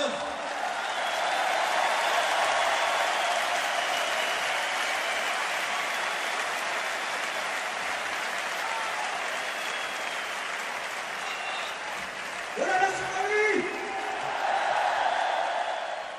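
A concert audience applauds loudly and steadily, the clapping sustained throughout with a brief voice rising over it near the end.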